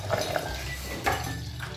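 Water poured from a container into a kitchen blender jar while preparing a sweetened drink recipe, a steady close splashing pour lasting a couple of seconds with faint clinks.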